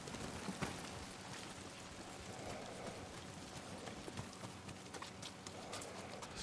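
Horse hooves clip-clop in a steady walking rhythm in a video game, faint and mixed with low ambient noise, continuing evenly with no talk over them.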